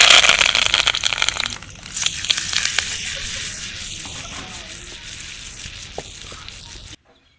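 Curry leaves and cumin hit hot oil while making vankaya roti pachadi, a brinjal chutney, setting off a loud burst of crackling sizzle that settles into a steady, busy frying hiss before cutting off abruptly.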